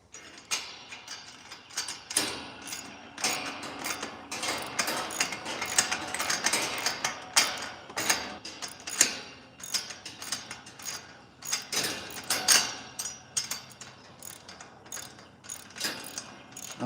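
A nut is tightened with a ratcheting tool, giving dense, uneven bursts of metallic clicking and clattering that run on and off throughout, with no talking.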